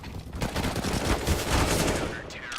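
Rapid pistol gunfire crackles in a Counter-Strike match on the Mirage map, with dense overlapping shots across a short burst, moderately loud with a busy game-sound background and faint commentary underneath.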